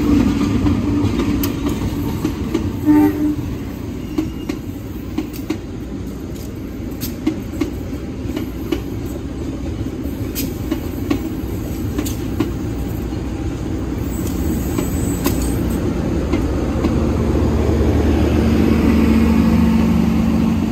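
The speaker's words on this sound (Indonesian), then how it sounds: "Oke teman-teman, ini dia masuk kereta api Kahuripan. Masuk jalur 1, jalur belok, bener kan?" Kahuripan passenger train from Blitar to Kiara Condong pulling into a station on a turnout track, a steady rumble of wheels and carriages close by throughout, with a rising horn-like tone near the end.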